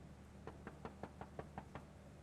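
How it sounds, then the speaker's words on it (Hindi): A run of about eight evenly spaced knocks on a door in a domestic drama scene, crisp and steady at moderate volume against a quiet room, with no voices. "एमन दरवाजा खोलो, बाहर लोग इंतजार कर रहे हैं."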